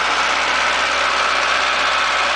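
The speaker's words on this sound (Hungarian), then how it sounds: "motor jár a szerkezetben" A Citroen AX 1.1 small petrol car engine idles with a constant, loud, even hum and a broad hissy drone, heard close and steady with no voices.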